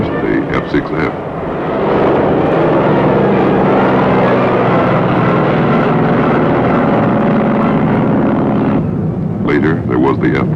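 Steady roar of an F6F Hellcat fighter plane's piston engine, loud and continuous for several seconds, with someone speaking briefly over it at the start and again at the end.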